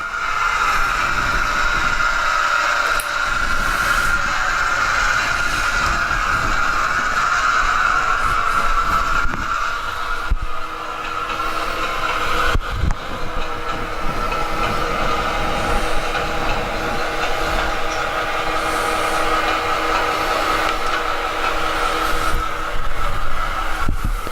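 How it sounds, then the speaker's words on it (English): Model train locomotive under a ProtoThrottle set to a high deceleration rate with no brakes applied, coasting down slowly: a steady, loud motor hum and rolling drone runs continuously, with a few brief clicks and no talk. "so you can see how the locomotive reacts with a high deceleration or momentum rate"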